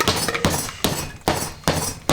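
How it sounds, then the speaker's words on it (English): Five sharp, loud hammer blows crushing ice at a steady pace for a tiki cocktail, each crack ringing briefly before the next hit. "I don't know if I like this hammer for this."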